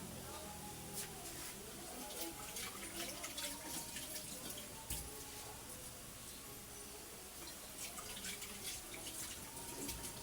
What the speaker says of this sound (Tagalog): Hugasan ko muna ang takip para siya maluto.